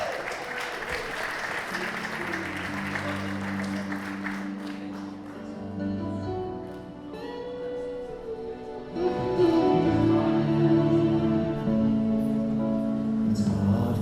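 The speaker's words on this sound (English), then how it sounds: "Nice round of applause." Audience applause at a celebration, clapping at the start that fades beneath music with sustained tones, then returns louder and denser over the music for the last few seconds.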